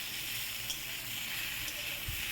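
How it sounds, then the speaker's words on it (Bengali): About 200 grams of mushrooms frying in a pan, giving a soft, continuous sizzle and hiss at close range with no voices. "তো মাশরুমটা আমি একটু ভেজে নিয়েছি"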